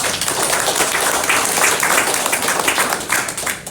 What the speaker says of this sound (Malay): Untuk ni kita kena bagi tepukan pada Walker.